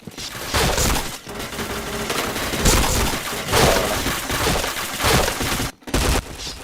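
Dense bursts of gunfire crackle almost without pause in the online shooter Point Blank, with rapid automatic volleys and sharp impacts, loud and close. A very brief gap comes near the end.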